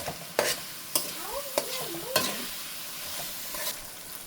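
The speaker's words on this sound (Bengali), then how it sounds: "মশলাটা সুন্দর করে কষিয়ে নিব।" Spice masala being sautéed in a pan for a beef recipe, a steady close sizzle with scraping stirring strokes and a few sharp clinks of the spatula against the pan.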